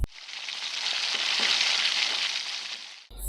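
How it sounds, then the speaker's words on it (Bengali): Spices, sauce, sugar, Kashmiri chili powder and salt sizzle in a frying pan while being stirred, a continuous close frying hiss that holds steady for about three seconds and then cuts off. "একদম ভালো করে নাড়িয়ে নিতে হবে যাতে সব কিছুর কাঁচা গন্ধটা একটা চলে যায়"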